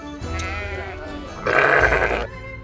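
Sheep bleat twice nearby, a shorter wavering call followed by a louder, longer one, alone with no talk.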